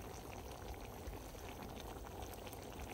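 Mole bubbling in a clay pot over a wood fire at a rustic ranch-style kitchen, a steady, continuous simmer with dense bubbling and faint crackle throughout, moderately loud and close, with no talking.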